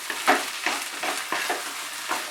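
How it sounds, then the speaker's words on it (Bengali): Rui fish and potol filling is stirred in a wok over a high flame, giving repeated scraping strokes in an uneven rhythm over a faint sizzle, close and without talk. "ফ্লেমটাকে বাড়িয়ে দিয়েছি, দিয়ে আমি এটাকে সমানে নাড়ছি।"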